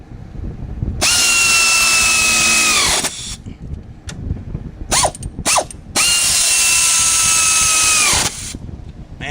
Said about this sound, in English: I love my air tools, man. Here comes the wind.